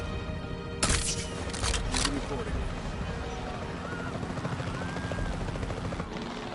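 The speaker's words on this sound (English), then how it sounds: "The priority needs to be tranquilizing it with the capture team chopper." Capture team helicopter in the Jurassic World Evolution 3 video game, a steady rotor whir and engine drone running throughout, with a few sharp bursts near the start and voices talking over it.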